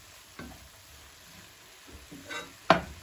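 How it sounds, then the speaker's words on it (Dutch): Soft sizzling of mushrooms, coriander and Italian herbs in a pan, broken by a few scraping stirs, the last one louder and sharper. "Dit laat ik voor 2 minuten bakken."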